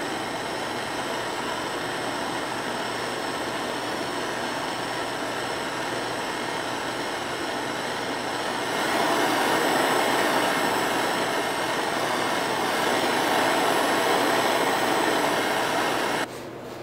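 A wood lathe spins a carved willow bowl while its rim is burned, giving a steady, continuous mechanical whir and hum that swells slightly louder partway through before cutting off near the end, with no talking.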